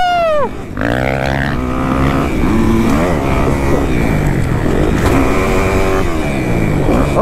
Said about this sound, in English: That two-stroke sounds beautiful.